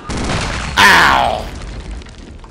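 A rocket launcher explosion in Return to Castle Wolfenstein gives one sudden heavy boom that rolls off into a fading rumble, loud and close, after a stretch of low noise.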